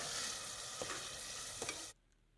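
Minced keema frying with chopped tomatoes and green chilies, a dense hissing sizzle with a couple of stirring scrapes that stops abruptly near the end, no voices.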